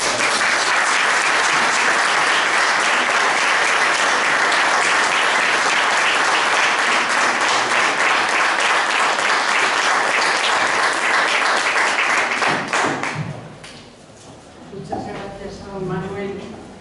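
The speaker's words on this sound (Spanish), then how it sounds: "ruego por favor un fuerte aplauso" Loud, sustained applause from an audience inside a basilica in Gijón at a lecture, cutting off sharply near the end as a voice begins speaking.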